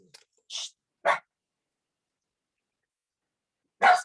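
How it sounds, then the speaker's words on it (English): A dog barks three times in short, sharp bursts indoors, with a long quiet gap before the last loud bark; no one talks. "Sorry for the dog."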